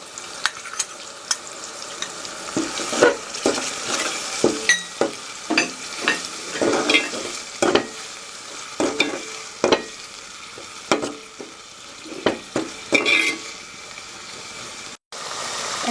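Panch phoron whole spices sizzle and crackle in hot oil while a spoon stirs them, giving irregular scraping strokes and sharp pops over a steady frying hiss, close and fairly loud, with no one talking.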